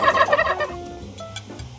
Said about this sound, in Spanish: acaba de llegar el famosísimo guajolote.